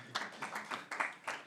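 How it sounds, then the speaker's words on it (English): Applause and clapping from attendees at a council cabinet planning and parking panel meeting, a short burst of several quiet, uneven clap bursts at moderate distance. "I think that deserves a round of applause."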